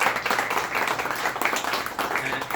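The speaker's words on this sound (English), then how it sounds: "So please give John and Olga a round of applause." An audience at a book signing claps and applauds, a steady, dense patter of many hands filling the room at close range without pause.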